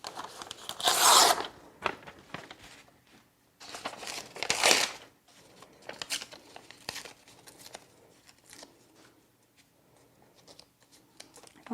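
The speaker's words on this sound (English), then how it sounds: "I don't know why I feel the need to rip everything." Paper is ripped by hand for a mixed media project in a few sharp, close tearing bursts separated by quieter rustling and crinkling handling sounds.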